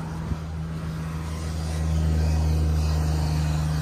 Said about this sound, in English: It's a loud ass car.